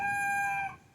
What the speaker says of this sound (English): He's trying to crow again.